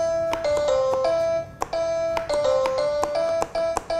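Cardboard Nintendo Labo piano plays a short run of clear chiming notes with the default sound, each a bright ping over a steady tone, spaced unevenly with a brief pause midway.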